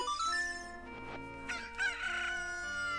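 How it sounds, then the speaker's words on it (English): A Cucco chicken crows in the video game Ocarina of Time, a loud drawn-out cock-a-doodle-doo lasting about three seconds, heard alone over faint game music. "So we take this little chicken back."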